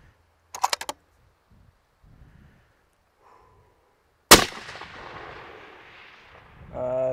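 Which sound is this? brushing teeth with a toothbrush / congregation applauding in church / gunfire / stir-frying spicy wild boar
gunfire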